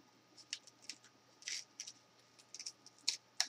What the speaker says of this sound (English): I cut out another sentiment from the exact same stamp set